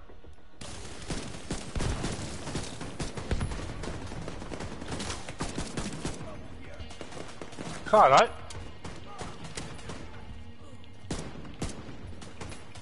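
Gunfire in the video game The Division 2, with bursts of shots running through the clip under steady talk and a loud, brief spike of firing near the middle.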